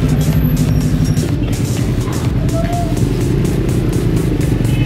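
Motorcycle engine running steadily close by, a constant low droning rumble at even loudness throughout with no clear revving.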